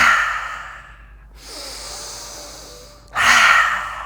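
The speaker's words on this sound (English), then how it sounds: "Exhale." A deep, breathy exhale during a gentle neck and shoulder yoga stretch, soft and airy. Two longer, louder breaths at the start and end frame a quieter stretch, with no talking.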